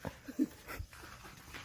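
Dogs excited about food give quick pants and a few soft whimpers over a short moment. The sounds come close and fairly quiet in an outdoor setting.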